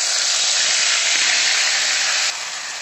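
Garlic ginger paste, two teaspoons, dropped into hot oil that is already crackling in a pan, giving a loud, steady, close sizzle that drops slightly in level near the end, with no talk.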